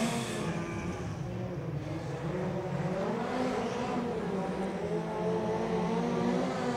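Midget race cars roar around the Oceanview track, a continuous dense engine drone with shifting revving tones as the pack circles, loud and steady throughout with no talk.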